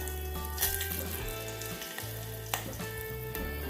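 Panch phoron, bay leaves and dried chillies sizzle in hot oil in a home kitchen, a loud steady frying crackle with occasional pops, close up and without talk.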